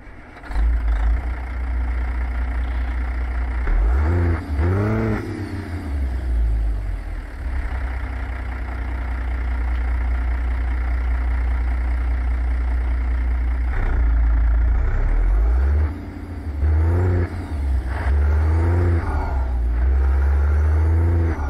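A heavy truck engine in American Truck Simulator, a Jon Ruda 389 pulling a Great Dane trailer, rumbles low and loud, repeatedly revving and shifting through gears as it accelerates, with no talk over it.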